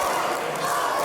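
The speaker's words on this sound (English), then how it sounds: "Malen whipping the crowd to a frenzy one more time" A wrestling crowd at a Fight Factory event roars in a frenzy, a dense, steady wall of cheering and shouting that holds loud throughout.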